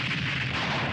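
A single second of dense, rumbling gunfire from a TV show scene where a monster is being shot, loud and continuous with low booming crackle and no voices.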